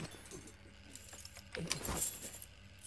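Keys jangle in the F.I.S.T.: Forged In Shadow Torch video game, a quiet metallic clinking that grows into a brighter rattle partway through.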